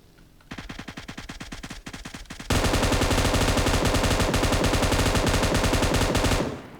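Rapid automatic gunfire in a battle royale video game, loud and close: a stuttering burst of shots, then a long unbroken roar of sustained fire that cuts off abruptly.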